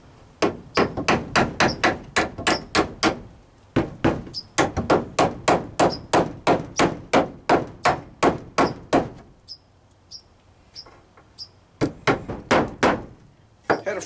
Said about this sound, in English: Let's see if I can toenail a couple in.